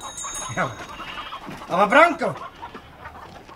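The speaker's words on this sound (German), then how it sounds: "da sind ja zwei Hühner mehr als vorig" Chickens clucking in a Swiss German radio play, a few short clucks and squawks with one louder rising cackle in the middle, close by, while a voice speaks briefly.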